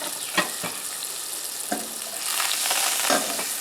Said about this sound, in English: Our pan is good and hot, so what I'm going to do is get a little butter in here. Let that start melting.